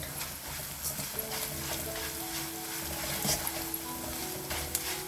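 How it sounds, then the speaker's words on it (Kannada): Flattened rice (avalakki) frying in hot oil over a high flame, a steady, quiet sizzle with soft crackles and occasional scrapes, no voices. "ಇದನ್ನು ಹೈ ಫ್ಲೇಮಲ್ಲಿ ಹುರ್ಕೊಂಡು ಬಿಡೋಣ ತುಂಬ ಚೆನ್ನಾಗಿ ಉತ್ಕೊಂಡು ಬಿಡುತ್ತೆ ಇದು ಎಣ್ಣೆಯಲ್ಲಿ ಹಾಕಿದ ತಕ್ಷಣ"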